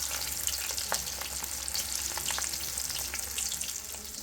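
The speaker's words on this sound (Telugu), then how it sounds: "నూనె కొంచెం వేడైన తర్వాత ఇది కొంచెం పకోడీ లాగా ఇలా వేసుకుంటే" Bitter gourd pieces, dropped in pakoda-style, fry in a little hot oil, giving a steady, close sizzle with crackling pops throughout and no talking.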